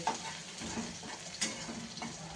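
Onions frying in a pan until golden for an Indian vegetable dish, a faint steady sizzle with occasional soft scrapes and clinks of a stirring spoon against the pan.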